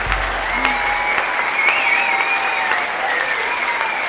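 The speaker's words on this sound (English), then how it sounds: "So a huge round of applause for the Village Choir." An audience applauds a village choir at a winter concert, with sustained, loud, dense clapping throughout and a faint tone running underneath.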